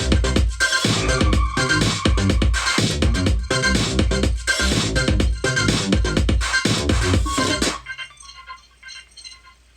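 Electronic music track with punchy processed drums, bass and chords playing loud and dense before dropping to a quiet, sparse tail near the end.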